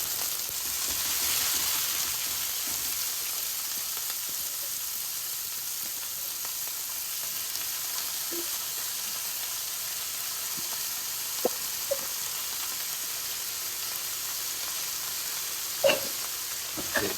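Cabbage fries in a pan with a continuous soft sizzle and hiss, fairly even throughout with a few faint clicks.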